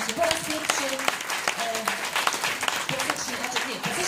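An audience claps for the performers Natalia and Mikołaj at a community culture house, a moderate, scattered applause running steadily under a voice speaking over it.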